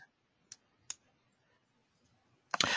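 A computer mouse clicks the Merge Now button: two or three small, sharp isolated clicks spaced apart in quiet, followed by a louder burst of noise at the end.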